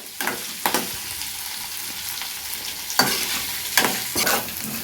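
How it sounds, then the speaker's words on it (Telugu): Ginger pieces, along with onion and curry leaves, fry in oil for atukula upma with a soft continuous sizzle, broken by a few sharp spatula scrapes and stirring taps against the pan. "అల్లం పొలుకులు అన్నీ దోరగా వేపుకోవాలి"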